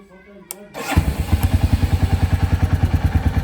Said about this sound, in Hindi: यो रॉयल एनफील्ड छै